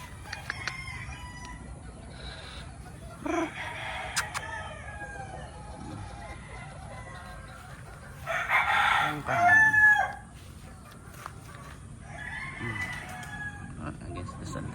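Roosters crow in a poultry farm, several drawn-out cock-a-doodle-doos rising at intervals, one loud and close near the middle, over a steady bed of clucking hens and farmyard murmur.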